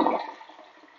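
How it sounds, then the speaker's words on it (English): A toilet flushing in a bathroom just scrubbed clean with an all-purpose cleaner, a loud rush of water at the start fading quickly into a softer swirl and trickle. "Let's go ahead and flush it so we can get a clear shot."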